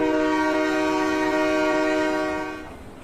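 A sustained, loud multi-tone train horn blares steadily from a passing bullet train, holding its chord for over two seconds before fading off.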